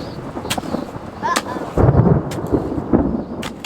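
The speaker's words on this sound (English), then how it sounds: "now it's thundering and there's lightning" Rumbling thunder from a storm with lightning in Arizona rolls in the middle, deep and fairly loud, with sharp cracks scattered before and after over outdoor background noise.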